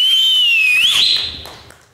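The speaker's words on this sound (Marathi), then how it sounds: "पहिली शिट्टी तुमच्यासाठी" A single whistle blown on a comedy show stage, a shrill sustained tone that wavers in pitch, bends upward near the middle, then trails off into faint background noise.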